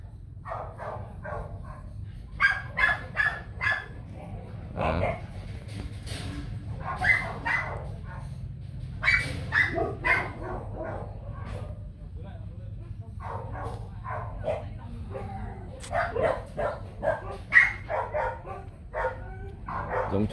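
Bac Ha village dogs in Vietnam barking in repeated close bursts and yips across a long stretch, with people talking throughout.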